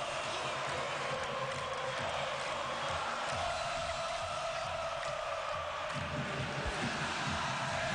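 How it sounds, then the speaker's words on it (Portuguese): Bahia supporters sing together in a packed football stadium during a Série B match against Botafogo, a steady loud crowd chant washing continuously across the stands with broad roaring texture. "Torcida do Bahia canta, sobe o som"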